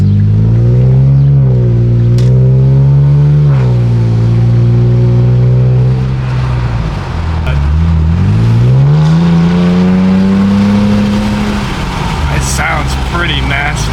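An Infiniti Q60 fitted with an aftermarket exhaust revs loud and close, its raspy engine note climbing and falling through several sweeps as someone talks over it.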